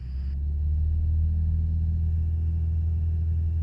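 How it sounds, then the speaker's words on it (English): A small airplane engine runs at full throttle during a touch-and-go, a steady low droning rumble that holds even and loud throughout with no voices. "touch and go, so flaps comes up first, then carb heat, then throttle goes to full."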